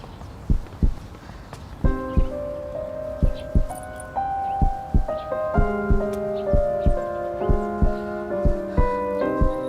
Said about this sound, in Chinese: 心跳怎么这么乱？